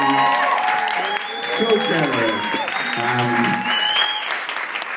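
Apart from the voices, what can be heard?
audience applause at a birthday party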